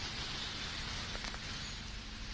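Steady heavy rain in Mumbai during flooding, a faint, even hiss of falling water with no other distinct sounds.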